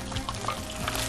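Tempura batter is sprinkled into hot oil in a wok, giving a brief, busy crackle and sizzle that is close and steady with no talking.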